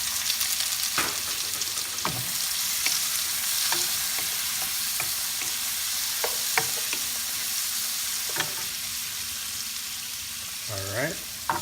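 Onion sizzles and fries steadily in a pan for crispy salmon belly with vegetables, with a constant hiss and sharp utensil clicks and scrapes scattered throughout, close and fairly loud, with no talking.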